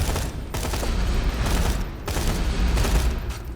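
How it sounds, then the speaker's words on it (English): Dense automatic gunfire from a pop-up turret in Borderlands 2, loud and sustained in rapid bursts with brief pauses, no talk over it. "the turret pops up out of it"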